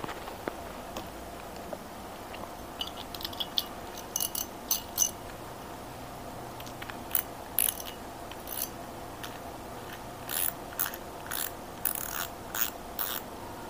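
A fishing reel's handle turned by hand, its main shaft supported by a bearing, giving a smooth, soft mechanical ticking and whirring with light clicks spread through the turning, close and quiet.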